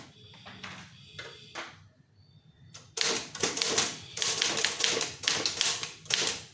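A typewriter pecks out a Tamil official letter, first in sparse keystrokes, then rapid, loud clattering bursts of key strikes with a bell-like ping, close up and without talk.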